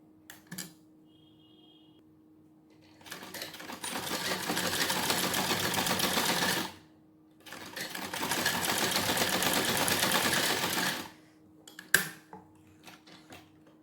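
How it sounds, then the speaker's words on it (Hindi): Sewing machine stitching the folded seam of a salwar in two long, steady runs, fairly loud and close, with short quiet pauses between and around them; no talking. "पहले हमने जो कट लगाया था उसको सिल लेते हैं इस तरह मोड़ के।"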